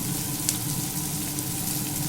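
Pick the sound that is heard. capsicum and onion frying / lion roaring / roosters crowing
capsicum and onion frying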